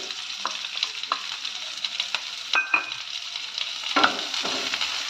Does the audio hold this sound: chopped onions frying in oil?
yes